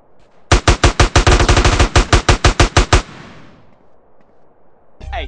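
Automatic gunfire in GTA San Andreas rips out as a rapid burst of about a dozen loud, close shots lasting a few seconds, then stops and a short echo fades.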